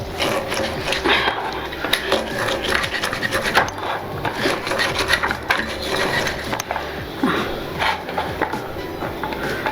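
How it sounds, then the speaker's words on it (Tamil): Ginger being crushed for Karaikudi pepper chicken: steady, dense pounding and grinding scrapes run throughout, close and fairly loud, with faint voices in the background. "இஞ்சி வந்து நசுக்கி வச்சுருக்கோம்ப்பா."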